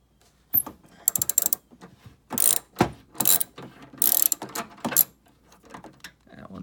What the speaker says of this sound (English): We're gonna remove these 17mm bolts.